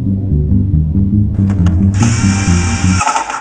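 A power tool whirs in short close bursts, driving the final screws into a computer build, with a rhythmic knocking pattern underneath before a steady high whine takes over.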